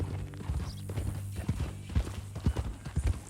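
Horse hooves clip-clop in Red Dead Redemption 2, a steady run of close, uneven thuds over a low hum of game ambience, with no speech.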